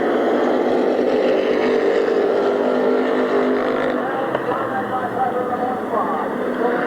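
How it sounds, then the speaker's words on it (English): Race cars roar side by side at Midvale Speedway, a loud, continuous engine drone from the oval track with a commentator talking over it throughout. "Side-by-side racing between Keith Cope and Ed Midall."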